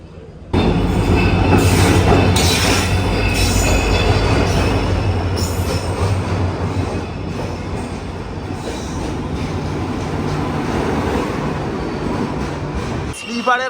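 A Saraighat Express train rumbles loudly and continuously close by, wheels clattering and squealing on the rails as it rolls into the station, with faint voices under the noise.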